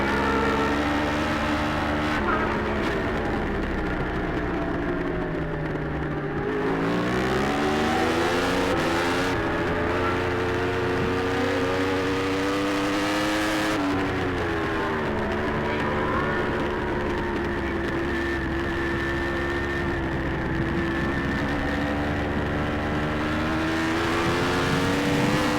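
Formula Pacific racing motorcycles, big 1000cc bikes in a six-bike battle for second place at an AFM road race, roar past in a loud, sustained stream of engines rising and falling in pitch as they shift and pass.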